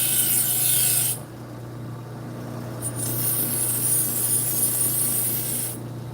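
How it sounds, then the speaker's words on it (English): A knife edge rasps steadily against a spinning 1000 grit sharpening wheel to work the burr, a continuous close grinding hiss that drops away for a moment and resumes; no talking. "Then I'll use this 1000 grit wheel to brush the burr to the front."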